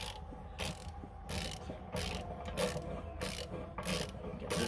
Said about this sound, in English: So what I'm using today is a 27 millimeter 6-point socket, half inch drive with an extension and a ratchet.